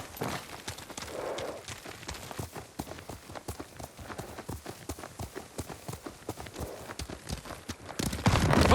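Rapid, steady clip-clop of horse hooves in Ghost of Tsushima, close and continuous, with a brief swell of noise at the very end.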